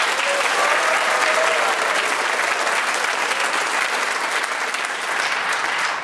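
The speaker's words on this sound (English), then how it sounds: "you do win this dangerously animalistic round of applause" A studio audience at a radio theatre quiz show breaks into sustained, even applause, a thick wash of clapping that holds steady throughout without any speech over it.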